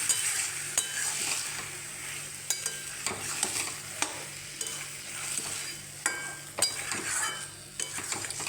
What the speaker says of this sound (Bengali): এবার মশলাগুলোর সাথে মোচাটাকে মিশিয়ে দেবো